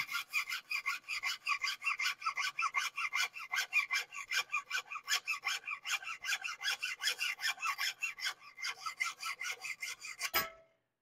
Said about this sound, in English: get a hacksaw. Now, I like using a hacksaw with a 32 teeth per inch. It makes nice, fine cuts.